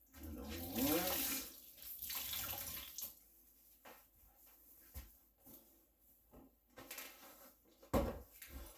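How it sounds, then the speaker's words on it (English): Kitchen faucet running over dishes being rinsed, a loud gush of water at the start, then intermittent splashes, clinks and knocks, with a dog audible in the background. "Let's give a rinse."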